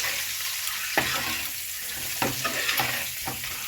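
Eggs fry in a pan with chili powder and salt masala, a continuous close sizzle broken by several sharp scraping stirs of a spatula, with no talking.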